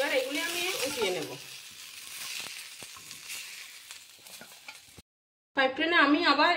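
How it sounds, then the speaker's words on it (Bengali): Potatoes frying in oil in a frying pan give a soft, steady sizzle with a few sharp clicks of stirring, while a person talks at the start and again after a short gap. "ফ্রাই প্যানে আমি আবার একটু তেল দিয়ে দিচ্ছি, তাতে আমি আলুগুলি ভেজে নিচ্ছি"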